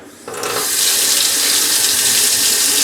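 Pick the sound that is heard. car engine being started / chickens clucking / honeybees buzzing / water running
water running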